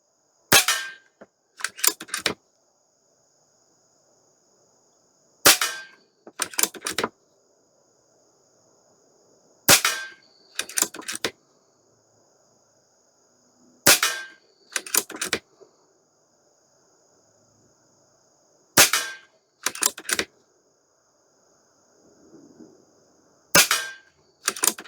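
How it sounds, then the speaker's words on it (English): A Stoeger XM1 Scout air rifle in .22 or .25 fires repeatedly at a range, sharp loud cracks in quick pairs and triplets separated by quiet gaps, with a faint insect-like hum behind. "And we'll shoot 10 at this, and then that'll add to my stats there in the ballistic chronograph"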